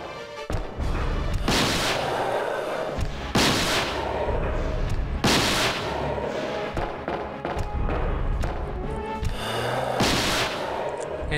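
Gunshots from Resident Evil 2 ring out as separate loud, booming blasts, about four widely spaced shots, each with a long decaying tail over rumbling game background.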